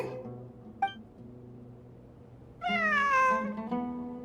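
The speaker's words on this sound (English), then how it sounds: "A cat?" Short in-game cat meows from an unseen cat while exploring ruins in Genshin Impact, one brief call early on, then a louder, drawn-out meow over soft ambient game music.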